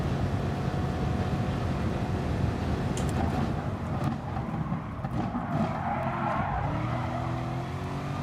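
Race cars in the GT Sport racing game, including a McLaren, roar continuously with a skidding tire squeal rising in the latter half, loud engine drone throughout and no talk.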